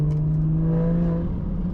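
A BMW 440i engine drones steadily and loudly close by, with a strong low tone as the car accelerates and a slight shift near the end, with no talking.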